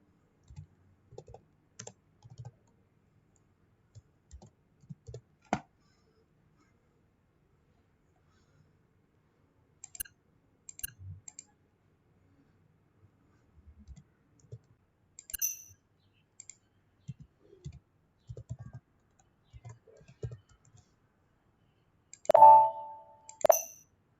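A computer keyboard is typed on in short bursts of sharp clicks, separated by pauses, close and clear in a quiet room, with one louder clatter near the end.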